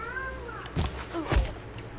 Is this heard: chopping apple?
no